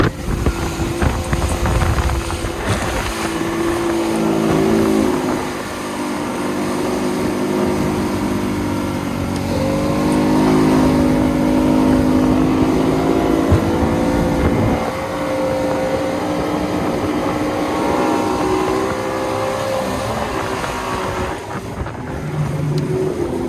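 A 13 Wahoo boat motor runs steadily through a rough-water sea trial, giving a loud, continuous droning roar with wind buffeting the microphone throughout and no talk.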